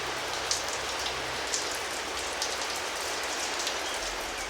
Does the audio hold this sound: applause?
no